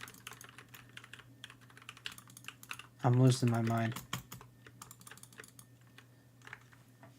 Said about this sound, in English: All I'm doing is pressing the keyboard.